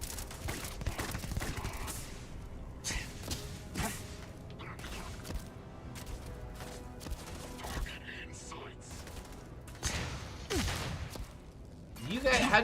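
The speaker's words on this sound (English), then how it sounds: "Okay, who's shooting me?" Rapid gunfire in the space game Starfield, a series of sharp close shots and bursts spread across the clip, with thuds and a louder burst at the end, under scattered talk.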